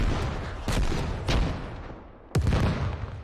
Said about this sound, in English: Rockets starting to get close to US forces along the wall.